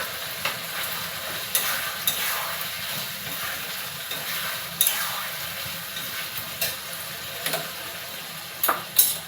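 Bengali potol chingri curry of pointed gourd and prawns cooks in a pan over a raised gas flame: a steady hissing simmer and sizzle broken by scattered spoon scrapes and clinks against the pan, close and clear.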